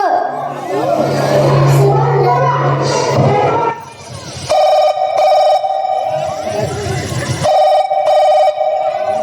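A telephone rings loudly on stage during a school gathering play: crowd noise and voices come first, then two long, steady electronic ring bursts follow one another with a brief break between them.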